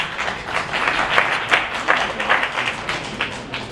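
An audience claps in a fairly steady rhythm of sharp, close hand claps that rise and fall in loudness over a few seconds.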